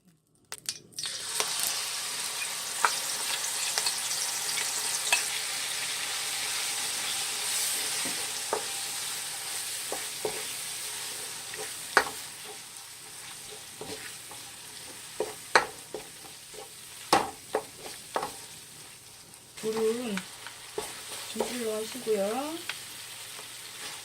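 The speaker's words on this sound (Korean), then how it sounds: "프라이팬이 이제 달궈지면 오징어를 넣고 볶아 보겠습니다" Squid stir-frying in a hot frying pan with oil, a steady broad sizzle throughout, punctuated by scraping clicks of a utensil and a few clattering stirs near the end.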